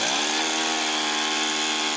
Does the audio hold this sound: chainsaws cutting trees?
yes